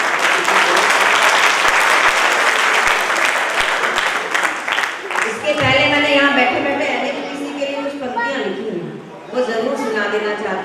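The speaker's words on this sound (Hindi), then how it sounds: "एक बार तालियों के साथ आप लोग" Audience applause at a Hindi poetry gathering (kavi sammelan): a dense, loud burst of clapping fills the first half, then thins out as a voice speaks over the fading claps.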